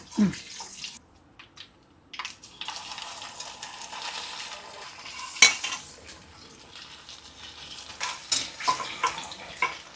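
Taro root pieces roast in a pan with mustard seeds, with a soft frying hiss under repeated close scrapes and clinks from a metal spoon against the pan.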